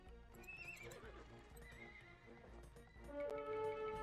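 Horses in the Age of Empires 2 HD strategy game: repeated clip-clop hoofbeats mixed with neighing and whinnying, layered over game music and effects, fairly busy and getting louder near the end.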